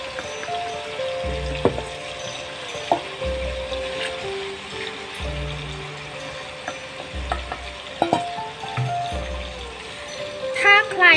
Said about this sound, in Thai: เดี๋ยวเราไปทอดกันเลยค่ะ